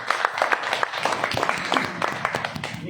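An audience at a Hindi health talk applauds after the presenter shows a red Ganoderma mushroom, a steady patter of many hands clapping at moderate loudness for a few seconds, with some voices mixed in.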